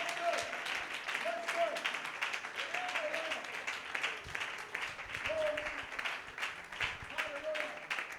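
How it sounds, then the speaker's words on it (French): A church congregation claps during a bilingual French-English sermon, a steady, moderately faint wash of applause with brief vocal sounds rising over it. "Give it a hand of clap."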